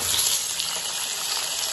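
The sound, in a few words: chicken added to pot sizzling while frying for biryani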